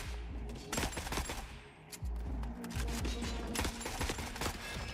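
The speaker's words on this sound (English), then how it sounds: "Who's shooting me?" Rapid, uneven bursts of gunfire in the shooter game The Forever Winter, a dense clatter of overlapping shots at mixed distances with a low rumble underneath, no voices.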